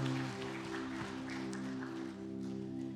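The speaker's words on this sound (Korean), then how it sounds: "우리 이 시간 하나님께 영광의 박수 올려드리겠습니다" A church congregation at a Sunday service claps together. The soft, steady applause sits under a sustained droning musical tone.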